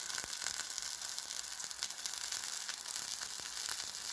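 Pine mushroom pieces sizzling in hot oil with a slice of garlic, a steady fine hiss broken by occasional soft pops and ticks, fairly quiet and close, with no voices.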